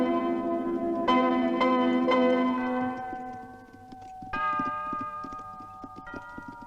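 Horses' hooves clip-clop at a walk on a farm in a classic western, their steady beats mixed with ringing bell-like tones that sustain and then fade, with no talk.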